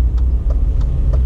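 Big lorry rumbling on a road close by, a loud steady low engine drone with faint periodic ticks, no voices over it.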